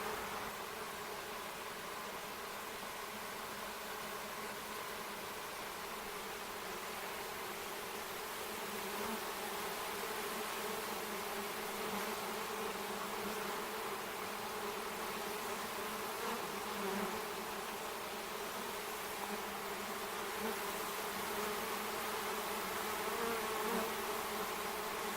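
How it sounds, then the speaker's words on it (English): A swarm of honey bees buzzes steadily and close, a dense, continuous droning hum that holds for the whole stretch with no voices. "I would say that's not a bad-sized little swarm."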